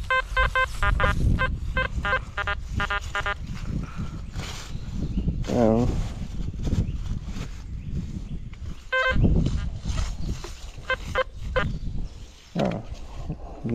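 A metal detector sounds its signal tone while sweeping over ground in woodland, with bursts of rapid beeps early on, a rising warble midway and another beep later, mixed with someone talking.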